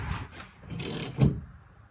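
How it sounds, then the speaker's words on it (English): A wrench works the suspension bolts on a 1975 Triumph TR6 front upper control arm during assembly, giving a few close metallic ratcheting and rubbing bursts with quiet gaps between them and no talking. "I can tighten them as far as I can go again, and then torque them when I have the torque wrench"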